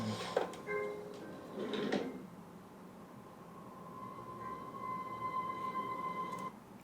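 A drawer slides open with two short scraping rattles close by, followed by a faint steady hum.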